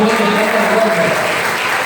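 Church congregation clapping to praise the Lord during an evening worship service, a short steady burst of applause with voices and a sustained tone underneath.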